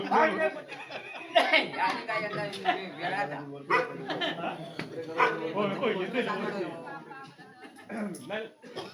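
A dog barks in several sharp bursts amid steady talking and some chuckling, the barks close and loud against the voices.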